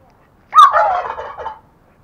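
A turkey call used to imitate a turkey gobble produces one loud, close, rattling gobble lasting about a second, with no talk around it.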